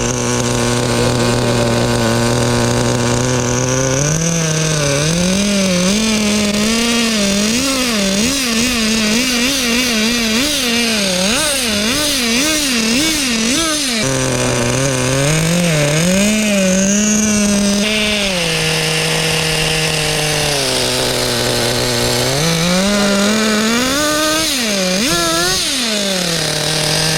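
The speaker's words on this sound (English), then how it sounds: "the motor idles great" A Team Associated MGT 8.0 nitro RC truck or Thunder Tiger 1/5 nitro motorcycle engine runs loud and close for a long stretch, a buzzy high-pitched idle that wavers and rises in brief surges.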